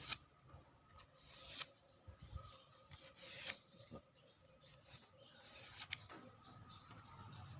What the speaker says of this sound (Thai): ขัดกระดาษใต้ครับผม